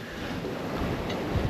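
Strong wind buffets a boat at sea over a steady roar of swell and surf, a dense, continuous rush with no voices.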